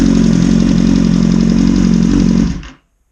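A 2009 Kawasaki ZX-10R engine idles loudly and steadily, cold, with a metallic clattering rattle from a cam chain tensioner needing adjustment, then cuts off abruptly near the end.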